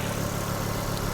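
A Volvo S60R's turbocharged five-cylinder engine idles with a steady low, even rumble, close by and alone for about a second.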